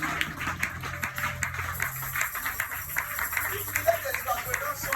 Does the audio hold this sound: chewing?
no